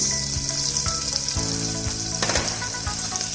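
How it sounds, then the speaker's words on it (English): Onions sizzle steadily in hot oil and butter in a pan, a continuous close frying hiss with a few soft stirring clicks throughout, no voices. "Heat little bit oil and butter in a pan. Add few onions, mix,"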